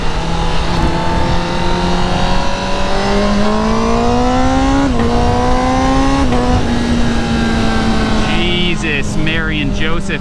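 A 2019 Honda CBR1000RR SP sportbike engine pulls steadily up through the revs while riding, a loud close drone climbing in pitch with brief dips at shifts, wind rush under it.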